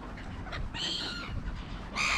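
Gulls and crows squabble over peanuts in a parking lot, their harsh calls and squawks rising in bursts over steady outdoor background noise, with a louder cluster of cries near the end.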